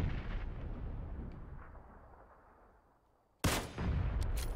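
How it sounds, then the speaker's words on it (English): Grenade blasts in the shooter game PUBG: a loud rumbling boom that slowly decays into quiet, then a second sharp, loud explosion near the end followed by sustained rumble. "He's throwing nades"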